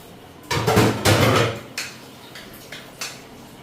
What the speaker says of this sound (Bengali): বাসন কয়টা ধুয়ে আনি